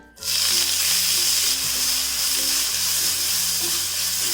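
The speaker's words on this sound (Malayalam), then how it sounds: "ഇത് ഇത്രയും കൂടി ഇട്ടിട്ട് വഴറ്റി കൊടുക്കാം." Grated carrot, chopped onion and green chilli sauté in hot ghee, giving a loud, steady sizzle that starts abruptly after a brief quiet moment and continues unbroken to the end.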